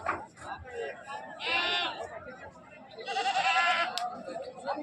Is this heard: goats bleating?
yes